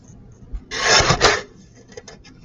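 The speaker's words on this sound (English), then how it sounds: "Now, my fins, I'm going to cut this top section off." A saw cuts off the top section of a fin while a skimmer is assembled, giving one short, rasping burst of strokes lasting under a second, close by with quiet surroundings.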